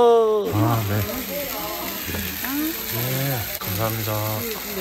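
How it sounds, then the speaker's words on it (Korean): A tomahawk steak sizzles on a hot plate at a restaurant table, a steady crackling hiss running beneath close conversation throughout. "어, 지글지글하네"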